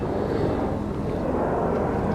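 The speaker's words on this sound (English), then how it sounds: "Excuse the noise of the helicopters going over." Helicopters pass overhead outdoors beside a 599cc inline four-cylinder motorbike, a loud continuous low rotor drone that holds steady throughout without talk.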